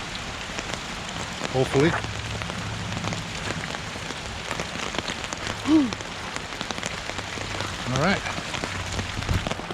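Rain falls outdoors on a wet hillside trail, a soft steady patter that stays constant in the background while someone talks briefly and footsteps or gear rustle.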